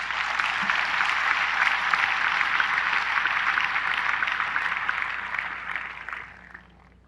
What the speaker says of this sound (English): So one more round of applause for you, Tony.